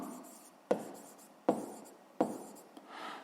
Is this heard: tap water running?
no